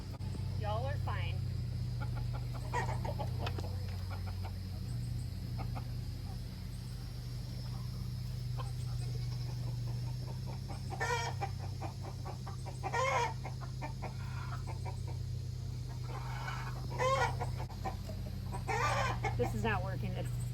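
Homestead chickens cluck and squawk, with occasional crowing, as they are shooed toward their coops; the bird calls come in scattered bursts over a steady low rumble, with people talking quietly in the background.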